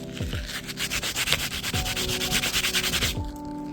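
A dirtbike chain is scrubbed clean with rapid back-and-forth brushing strokes, close and loud, forming a steady rasping rhythm that runs alone for a few seconds.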